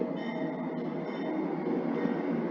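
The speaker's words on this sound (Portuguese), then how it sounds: "É complicado, toda hora passa trem" A train passes by outside, a steady, fairly loud rumble of rolling wagons that fills the whole stretch with no break.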